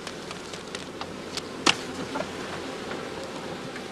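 Honeybees buzz around a heather-season skep hive as smoke and light tapping drive them off the combs, a soft continuous hum broken by a few brief sharp clicks.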